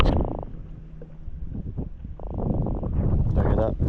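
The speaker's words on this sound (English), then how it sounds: "He's croaking." A freshly caught croaker fish croaks in short buzzing grunts, two clear bursts close to the microphone, over wind noise and outdoor rustle on the water.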